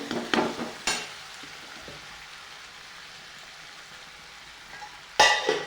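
Chopped tomatoes frying in hot oil for a spicy cauliflower curry, giving a steady, soft sizzle with a few sharp clatters of stirring near the start and end.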